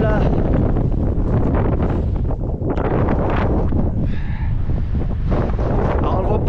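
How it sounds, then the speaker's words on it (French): Heavy wind buffeting the microphone, a constant loud rumble with gusty fluctuations; faint voices may be partly buried beneath it. "Il y a du vent."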